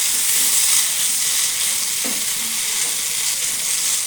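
Noodles being stirred in a frying pan, a steady close sizzle and scraping hiss running throughout, with a brief utensil knock midway and no talking.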